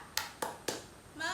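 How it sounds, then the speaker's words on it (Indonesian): A teacher demonstrates the focus clap routine in a primary school classroom: three sharp, evenly spaced claps ring out close by, and a brief voice follows at the end. "Sekali lagi, Ibu akan tunjukkan ya. Tepuk fokus."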